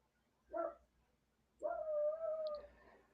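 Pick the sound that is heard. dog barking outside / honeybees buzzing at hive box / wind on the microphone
dog barking outside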